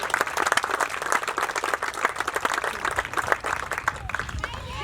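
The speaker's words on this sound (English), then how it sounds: "That deserves a round of applause." A crowd applauds steadily for several seconds at a park groundbreaking ceremony, dense overlapping claps at an even level with a few voices mixed in.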